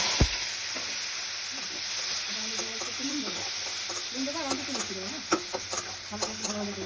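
Soft, steady sizzling of potatoes frying in hot oil in a pan for alu posto, with occasional stirring clinks and scrapes and a voice talking quietly.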